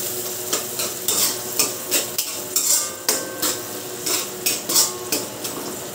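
Chicken with onion, garlic and ginger being stirred in a hot pan for halang-halang Bisaya, a utensil scraping and clinking against the metal in a steady rhythm over a soft sizzle, close and fairly loud with no talking.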